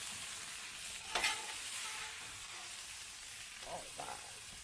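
Vegetables sizzle softly and steadily on a Blackstone griddle while they are lifted off, with a sharp scrape of a spatula near the start and a couple of light scrapes toward the end.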